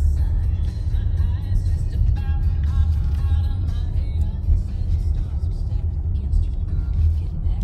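Low steady engine rumble of a car turning into a residential neighborhood on Waverly Drive, heard from inside, with a voice talking over it.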